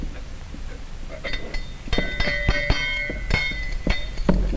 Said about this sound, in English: First, she rings a dinner bell, and Bob brings on a tablecloth.